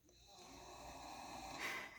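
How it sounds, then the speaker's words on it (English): A beagle lies right beside the camera, snoring loudly and steadily in one long rasping breath that swells near the end. "If you hear snoring, it is my beagle."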